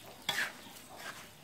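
Chilies being stir-fried in a pan over low heat for a roasted chili paste, with one quick scraping stir and a brief sizzle near the start, then a soft steady hiss.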